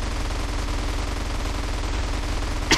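Rapid, continuous automatic gunfire in Grand Theft Auto: San Andreas rattles without pause, loud and dense, with a sharper burst right at the end.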